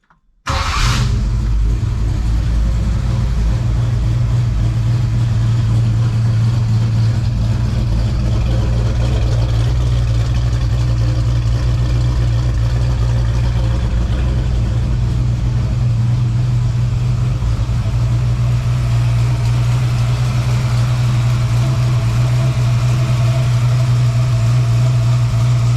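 A 1966 Ford Mustang with a blueprinted engine cranks and fires up abruptly, then settles into a loud, steady, close-up idle with a deep rumbling hum that continues unbroken.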